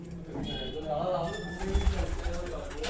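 Flying pigeons in a Punjabi kabootar-baazi loft coo low and continuously at close range, with faint voices murmuring nearby.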